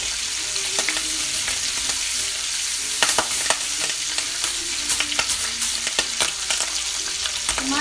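Oil splattering and sizzling steadily in a pan while breakfast fries, with sharp pops and crackles bursting over a constant hiss, loud and close, with no talk.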